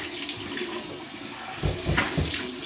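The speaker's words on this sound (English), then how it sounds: "So, here we go with my warm water rinse." Warm water runs from a bathroom tap for a post-shave face rinse, a steady close splashing stream that gets louder with a few sloshing surges toward the end.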